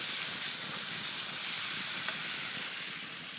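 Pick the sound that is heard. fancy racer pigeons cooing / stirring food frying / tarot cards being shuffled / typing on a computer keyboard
stirring food frying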